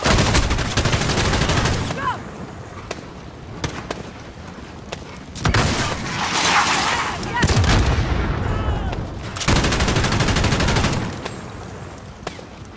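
Machine gun fire in a Call of Duty Modern Warfare campaign mission: loud, sustained automatic bursts close by, broken by short pauses and renewed volleys, with other gunfire and battle noise mixed in.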